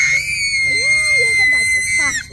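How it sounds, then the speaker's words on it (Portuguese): A child lets out a loud, high-pitched scream that holds a steady piercing tone for about two seconds, with wavering vocal sounds beneath it near the end. "E qual é o maior grito do mundo?"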